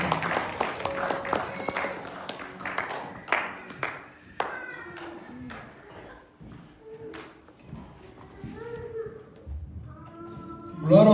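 A church congregation claps in scattered, uneven bursts with cheering voices and a speaker talking over it; the clapping is moderately loud and irregular, thinning out toward the end.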